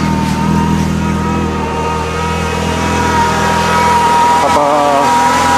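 A 2004 Renault Clio with the F4R engine running just after a timing belt and auxiliary belt change, a loud steady close idle drone that rises briefly in a rev toward the end.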